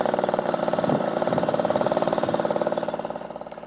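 A Yamaha QT50 moped's small engine runs just after a kick start without choke, putting out a fast, steady putter with a slight rise in revs that tapers off slowly.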